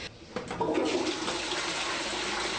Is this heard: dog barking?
no